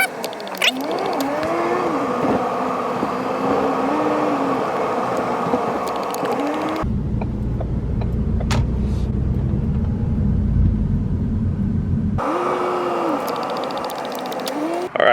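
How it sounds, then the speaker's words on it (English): A car is driven around a naval base, steady engine and road rumble throughout with gear-like whines rising and falling, and a stretch of deeper, rougher low rumble in the middle. "But today I'm gonna drive and show you guys"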